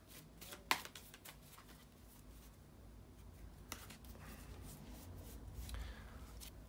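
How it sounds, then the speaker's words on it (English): Tarot cards are shuffled close by in a quiet room, with soft riffling and rubbing plus a few sharper snaps and taps as the deck is handled over several seconds. "bear with me just a second, guys, to shuffle the cards"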